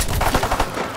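Rapid submachine gun fire in Call of Duty: World War II Zombies, a short loud burst of closely spaced shots.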